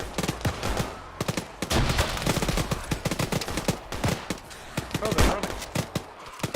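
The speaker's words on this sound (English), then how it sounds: "Frag going out." Dense, rapid gunfire crackles through an Arma video game firefight, with sharp repeated shots and bursts close up, while players talk over the noise.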